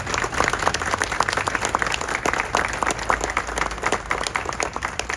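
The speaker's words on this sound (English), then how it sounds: "Give yourselves a round of applause." Applause from the audience at a Main Street Allegheny grant announcement: steady, dense clapping from a crowd that holds level and close throughout.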